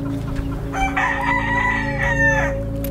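A fighting rooster kept on a short tether crowing once, a loud, close, drawn-out call over a constant background drone, with other fowl clucking nearby.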